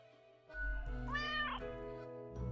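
A cat in the video game Death and Taxes gives a single clear, drawn-out meow with a rising-then-falling pitch, close and alone over a low background hum.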